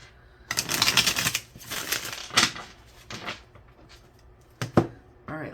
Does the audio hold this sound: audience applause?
no